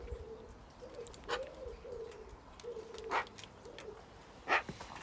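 A dove or pigeon coos in a repeated soft, low rhythm close by, with a few sharper clicks and knocks breaking in over faint background noise.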